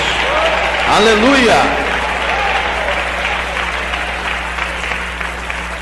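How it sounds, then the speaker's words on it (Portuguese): Church congregation applauding loudly, continuous dense clapping mixed with shouted praise, a voice crying out briefly over it near the start, and a low steady hum underneath. "Agora eu quero ouvir palmas misturado com glória a Deus."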